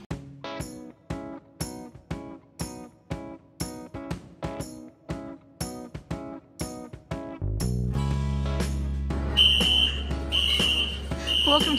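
An emergency alarm sounds inside a desert hotel at breakfast, a loud repeating electronic tone in regular pulses that later turns into a steady drone with higher beeps over it.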